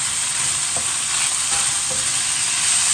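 Peeled, deveined prawns fry in a hot pan for fried rice, giving a loud, steady sizzle with a few faint stirring scrapes and no talking.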